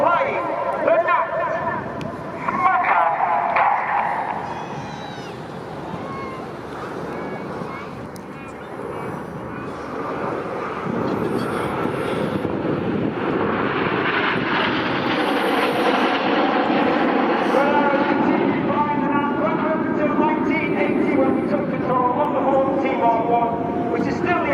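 At the RIAT 2024 airshow, Red Arrows jets fly past in a Gnat tribute with smoke on. Their roar builds and sweeps across at length, while an announcer talks over it and crowd noise sits underneath.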